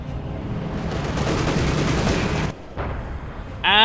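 Flak Panzer anti-aircraft gunfire in the Company of Heroes 2 strategy game: a dense, sustained roar of rapid autocannon fire that drops briefly near the end, then resumes with a sharp burst.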